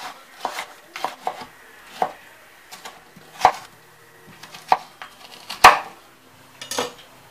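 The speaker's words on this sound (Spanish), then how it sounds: "cortamos las verduras a trozos pequeños" Knife chopping vegetables into small pieces on a board, irregular sharp knocks at close range, some louder than others, with occasional utensil clinks and no talk.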